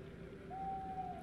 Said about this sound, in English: Nocturnal owls are hooting.